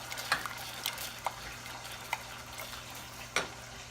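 Roast duck sauce with jam is stirred in a pan, quiet background sizzle under a handful of distinct clinks and scrapes of the spoon against the pan, spaced irregularly, no talking.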